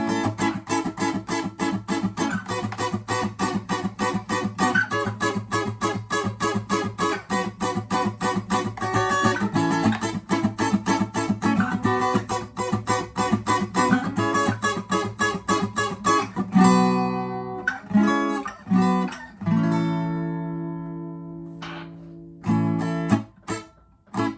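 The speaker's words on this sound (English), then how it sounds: "So let's get a little faster with your ska and the upstroke." Rapid, even guitar strumming with sharp choppy upstrokes in a steady rhythm, loud and close, later slowing into a few ringing chords and stops.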